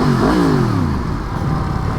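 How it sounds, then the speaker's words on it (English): Yamaha FZ10/MT10 motorcycle with a quiet exhaust revving at a car meet, a loud close engine rising sharply then sliding down in pitch as the revs fall away, with no talking. "That quiet exhaust is kind of growing on me"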